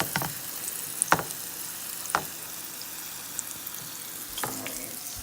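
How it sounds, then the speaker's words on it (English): Jamaican split pea dahl curry fries on really high heat in a pot, a soft steady sizzle broken by a few sharp scrapes and clinks of a spoon stirring. "Stir for like 5 to 10 minutes on really high."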